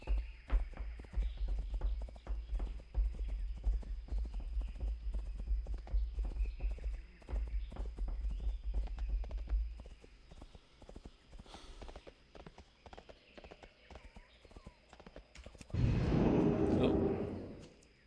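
A horse mount in World of Warcraft walks in Stranglethorn Vale, its hooves making a steady, quick clip-clop. A short breathy vocal burst sounds near the end.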